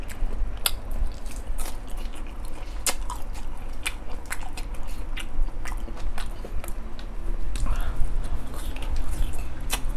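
Someone chews crunchy shrimp marinated in fish sauce close to the microphone, with wet bites and repeated crunchy, squishy mastication sounds continuing steadily.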